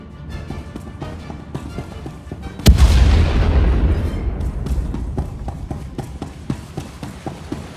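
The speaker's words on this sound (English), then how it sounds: "Prepare to fire weapon on my command." Starship weapon discharge in Star Wars: The Old Republic, a sudden heavy boom that rolls into a long decaying rumble, set against a backdrop of rhythmic thuds and clicks.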